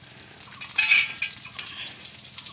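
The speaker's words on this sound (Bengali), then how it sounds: "এগুলো হালকা ভেজে" Whole bay leaves, green chilli, cardamom and cumin fry lightly in hot oil, giving a soft crackling sizzle with a brief brighter spatter burst near the start, then settling to a quiet steady hiss.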